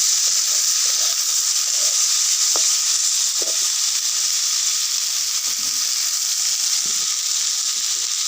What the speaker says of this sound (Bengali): দিয়ে এটাকে ভালো করে একটু কষিয়ে নেব